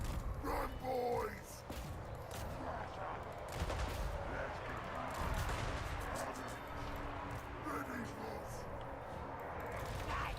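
Gunfire in a Warhammer game, a steady stream of machine-gun shots and distant booms under constant battle noise, with a voice talking at times.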